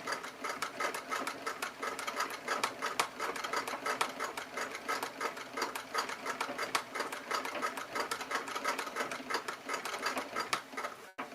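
Embroidery machine running steadily through shaded stitching work, a dense continuous rapid needle chatter held at an even, fairly close level for the whole stretch with no talking over it.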